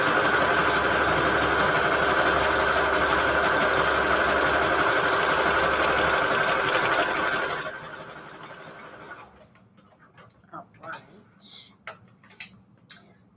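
A sewing machine runs steadily at a zigzag stitch through paper envelopes, a loud continuous mechanical whir lasting about seven seconds, then stopping and leaving quiet handling clicks and a few faint taps.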